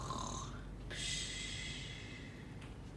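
A voice imitates a sleeping giant snoring, giving a drawn-out breathy snort and whistling tone, faint and close against a quiet background.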